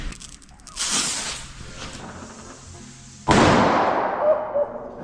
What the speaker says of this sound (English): Someone goes for the firecracker pile.